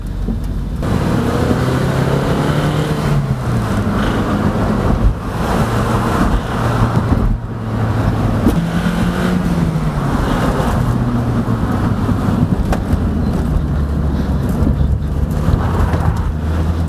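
A Toyota MR2 ZZW30 being driven, with a steady engine drone and shifting low tones under heavy wind and road rush from the moving car, continuous and fairly loud throughout.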